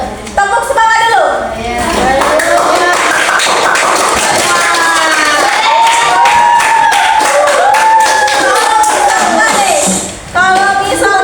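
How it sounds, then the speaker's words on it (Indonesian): A school class does a rhythmic spirit clap, with quick repeated hand claps running under loud, lively chanting voices. The sound fades out briefly near the end before the voices return. "gimana kalau kita tepuk semangat dulu?"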